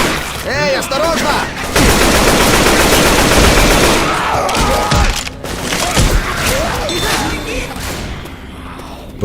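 Rapid assault rifle bursts in Left 4 Dead 2, loud and dense through much of the stretch, with shouted game voices and sharp clatter breaking through near the end.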